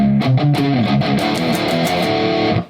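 Guitar plays a quiet riff, a steady fast-picked melodic line with shifting low notes and bright rhythmic accents, loud and continuous before cutting off abruptly at the end.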